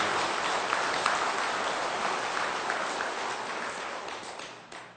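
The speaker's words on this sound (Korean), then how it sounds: "큰 박수를 한번 보내시기 바랍니다" A gathering at a Buddhist dharma talk gives steady applause, a continuous moderate patter of many hands that fades slightly toward the end and stops abruptly.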